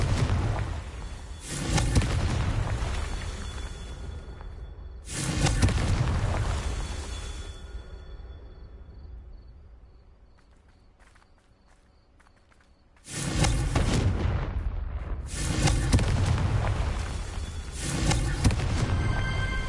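Bombarda and Confringo spell blasts in Hogwarts Legacy, three loud booming explosions spaced a few seconds apart, each decaying into a rumbling tail, with a quiet lull between the second and third.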